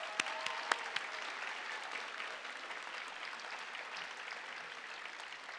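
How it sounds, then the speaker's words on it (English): Audience applause fills a college commencement ceremony at UC Santa Barbara's College of Creative Studies, steady dense clapping heard from a distance with a few sharper near claps at the start. "Let's give her another round of applause."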